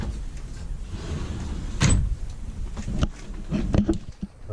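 An entry door on a 2015 Jayco Pinnacle 31RETS fifth-wheel RV swings shut with one firm thud near the two-second mark, followed by a few lighter latch and handle clicks in a quiet interior.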